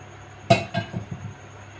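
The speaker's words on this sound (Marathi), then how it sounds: "आता हे भांडं म्हणजे पातेलं कढईवर आपल्या गॅसवरती ठेवायचं" A metal rice pot is set down on a wok over a gas stove, giving one sharp clank followed by a few lighter metallic rattles as it settles.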